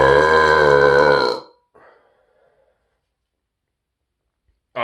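A single deep, drawn-out burp, loud and close, forced out with effort and lasting over a second before cutting off into near silence, with a faint brief rasp afterward.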